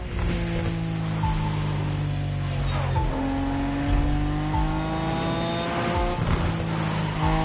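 Street racing cars in The Crew Motorfest roar continuously, with engines revving, shifting through gears and rising in pitch, plus brief passing whooshes and faint tire noise.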